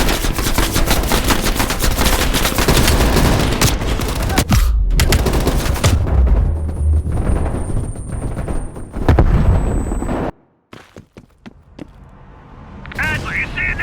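Sustained machine-gun fire roars in Call of Duty Black Ops on Xbox One, loud rapid bursts with booming impacts, then breaking off into scattered shots and quieter battle noise.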